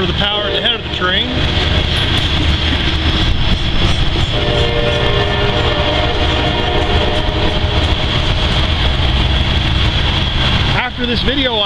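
A heavy freight grain train led by SD60 locomotives roars by up close in Northfork, West Virginia, with continuous rail rumble, its horn blaring in sustained blasts throughout.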